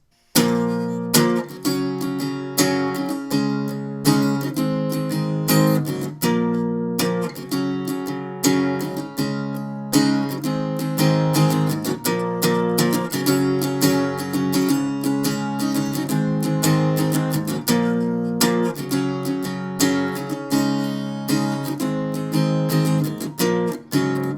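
Guitar strums a chorus, a dense, continuous run of fast rhythmic strokes through a repeating chord progression, loud and near, with no talking.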